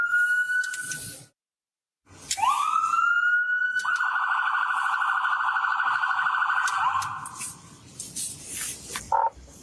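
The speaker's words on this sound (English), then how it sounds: "She ended up walking away from the sirens." A loud police siren wails close by, rising and holding a high tone for several seconds, then fading out with scattered background noise.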